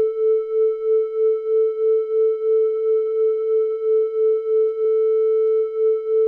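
A steady sine-wave synth tone with a chorus effect, giving a gentle, regular pulsing wobble and faint higher overtones, playing alone without interruption.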